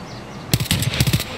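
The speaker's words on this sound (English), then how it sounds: "Oh, it's the sniper's gun." Video game sniper rifle shots crack out as a quick cluster of sharp bursts after a quiet lull, loud and close, with no talk.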